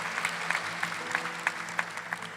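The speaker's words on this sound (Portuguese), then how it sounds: "Agora você pode aplaudir." Audience applause at a Catholic church service in Brazil: a dense, even patter of many hands clapping at moderate distance, steady throughout with slight rhythmic swells and no talk on top.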